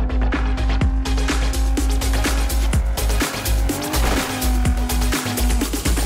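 Vehicle engine accelerating hard in the racing game Onrush, a loud continuous rev with rhythmic pulses and rising pitch, layered over a dense driving soundtrack.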